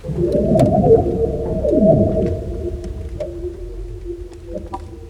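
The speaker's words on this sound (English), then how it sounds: "warming the ice ever so slightly, making the glassy surface hum and howl as it flexes and bends" An eerie, resonant hum from a sun-warmed ice sheet flexing and bending, with swooping, descending howls and a steady drone, faint pings scattered throughout, no voices.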